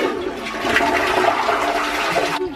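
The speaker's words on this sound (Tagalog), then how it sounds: "Try kong tingnan ko kung magpa-flush ako ngayon." A toilet flushing close by, a loud continuous rush and gurgle of water that drains steadily and cuts off abruptly near the end.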